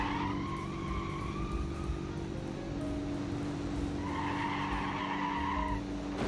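Tires on a car in BeamNG squealing in two long skids under hard braking, steady and close over a constant engine hum, with a short gap between them.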